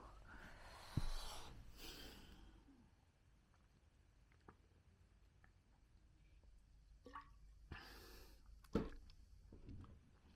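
Water dripping in a quiet room, a few sparse drips and small splashes spread over several seconds, with soft handling noises in between.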